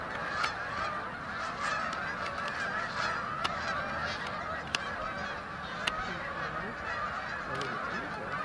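Geese honk repeatedly in the evening, a faint, far-off flock with scattered calls over a steady outdoor background and a few sharp clicks.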